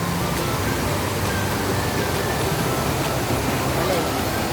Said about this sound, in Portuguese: Essa é a cachoeira encantada.